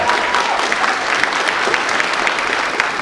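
An audience at a fall graduation speech night applauds the professors, a dense steady clapping crowd at close range that fills the whole stretch without a break.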